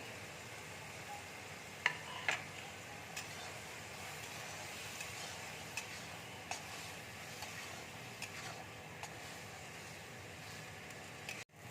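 Ridge gourd fries in a pan with salt and turmeric, giving a soft, even sizzle with occasional light clicks and taps of a stirring spatula.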